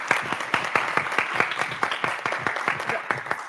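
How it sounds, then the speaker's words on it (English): Audience applause for debaters at a debate competition, a dense, steady burst of many hands clapping throughout, loud and close, with no talk over it. "Let's give all of our debaters another round of applause."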